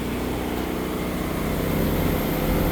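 Predator 13000 watt generator running, a loud, steady engine drone with a constant mechanical hum and no change in pitch, close by and alone.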